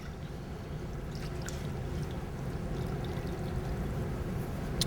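Water pours steadily over a kitchen rag to wet it at a sushi-making demonstration, a continuous close splashing flow lasting the whole stretch with no voices.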